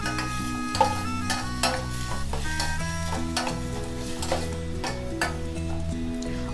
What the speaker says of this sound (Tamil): இப்போ நம்ம சாப் பண்ணி எடுத்த ஆனியன் ஆட் பண்ணலாம். நல்லா சாத்தே பண்ணிக்கலாம்.